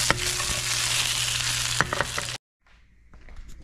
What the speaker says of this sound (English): you got the oil heating up